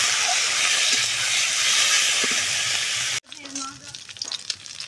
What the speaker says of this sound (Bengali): আমি এবারে চিংড়ি মাছটা দিয়ে দেবো। একটু হলুদ নুন দিয়ে ভেজে,